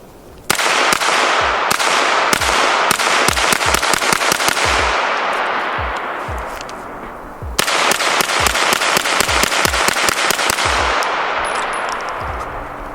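Unsuppressed gunfire from a SIG MPX 9mm carbine with an 8-inch barrel, heard as two long bursts of sharp, loud, closely spaced shots with ringing echo between them, each burst gradually tapering in intensity.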